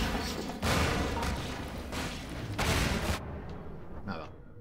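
Heavy, booming bursts of gunfire and explosive thuds in the video game Half-Life 2: Episode One, coming in loud surges over about three seconds before dropping to quieter rumbling.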